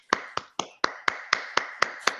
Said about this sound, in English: Can everybody please unmute yourself so we can give Liz a big round of applause?